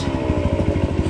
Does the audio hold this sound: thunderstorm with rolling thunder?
no